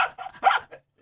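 A dog in the Castlevania animated series barks in a few short, close yaps with brief gaps between them, ending in quiet.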